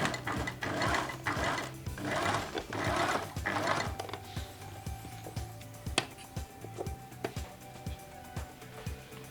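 A sewing machine stitches back and forth to relock a seam on a vintage shirt with a notched collar, giving a fast, loud mechanical rattle for about four seconds. Slower, separate needle thumps and clicks follow.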